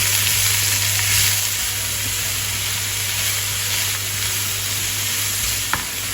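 Cauliflower and broccoli frying in a pan while being stirred, with a strong, continuous sizzle and a few soft scrapes, close and unbroken, with no voices.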